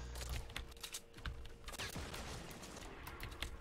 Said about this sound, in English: Are you getting shot at?